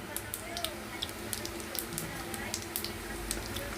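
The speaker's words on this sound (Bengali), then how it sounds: "আর একটু তেল দিয়েছি দিয়ে দেবো একটু জিরে ফোড়ন" Cumin seeds tempering in hot oil in a home kitchen pan, after pointed gourd has been fried, give off a faint, steady sizzle sprinkled with small crackles and pops, with a voice talking quietly over it.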